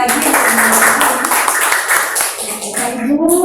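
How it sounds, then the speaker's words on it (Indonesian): Audience applause in a room at an Indonesian training session, a dense steady patter of many hands clapping close by and continuing across the whole stretch, with a voice briefly audible near the end. "Tepuk tangan sekali lagi."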